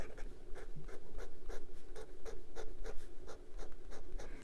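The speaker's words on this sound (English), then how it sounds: "But this nib is scratchy." A Majohn A1 capless fountain pen with a fine steel nib scratches across paper in quick rhythmic strokes, a close, dry and steady scratching with no talk.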